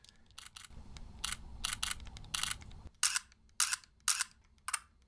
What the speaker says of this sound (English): the Z8 doesn't actually have a mechanical shutter at all, so you just get a little sound